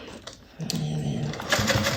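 Sewing machine stitching across fabric in a short, close burst of rapid mechanical chatter, starting after a brief pause with faint handling noise.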